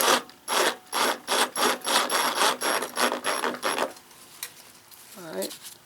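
A ratchet tightens a lawn mower blade bolt in a steady series of about a dozen loud, close clicking strokes, then stops, and a voice follows.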